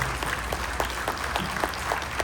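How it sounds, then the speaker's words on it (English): Fans in a convention-hall audience at a KISS fan expo Q&A clap steadily together, a dense, even patter of applause with scattered sharper claps, moderately loud and with no voices over it. "you can clap"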